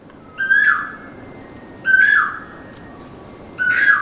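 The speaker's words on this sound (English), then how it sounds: "That's that annoying bird I was talking to you about at the start of this video." A loud bird calls three times with a piercing, sharply repeated whistle, each burst about half a second long and separated by quiet gaps of just over a second.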